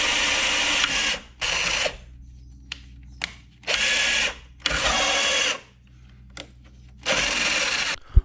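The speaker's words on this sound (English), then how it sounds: "here we're drilling away" A power drill bores out spot welds on the inner rocker panel of a Mercury Sable station wagon, running in loud bursts of about a second each, separated by short pauses and a few sharp clicks.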